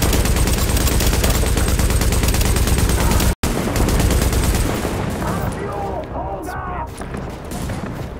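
Continuous rapid automatic gunfire from a high-capacity gun in The Division, loud and unbroken for several seconds, dropping out briefly, then continuing under chatter and voices.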